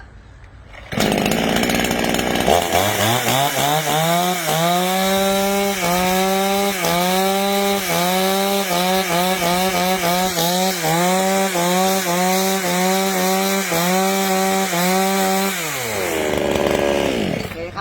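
A Mizufuji 5200 gasoline chainsaw is pulled to life, then its engine runs loud and steady, revving up and down in repeated surges before easing back to idle.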